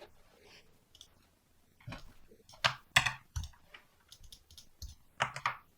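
Scattered clicks of keys tapped on a computer keyboard, irregular short bursts with pauses between, close and fairly quiet.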